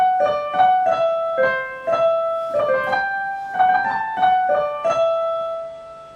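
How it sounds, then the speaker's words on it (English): A theme tune for the Doctor Puppet show, heard as a short melodic phrase of repeated pitched notes in a bouncy rhythm, played clearly and alone with no voices. "The Doctor Puppet show theme sounds like this."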